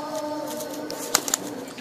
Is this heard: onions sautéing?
no